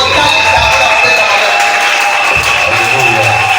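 A church congregation at an evangelistic preaching service breaks into applause and cheering, a dense steady crowd roar with a sustained tonal hum running through it and voices mixed into the noise.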